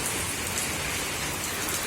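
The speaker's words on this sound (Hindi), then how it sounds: "छत पे बहुत ज़्यादा बारिश है फिलहाल" Heavy rain pours onto a village rooftop, a dense, continuous hiss of drops at steady loudness with no voices.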